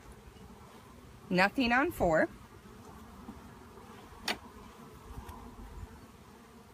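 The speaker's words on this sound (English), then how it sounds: "all of those bees are out of the hive" Honeybees buzzing around a hive entrance during a hive inspection, a faint steady hum under brief nearby speech.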